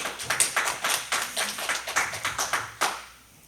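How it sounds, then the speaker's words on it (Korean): A church congregation at a Korean Presbyterian Sunday service breaks into steady, rhythmic applause, many hands clapping together in a brisk even beat for about three seconds before it stops abruptly. "하나님께 영광의 박수 한번"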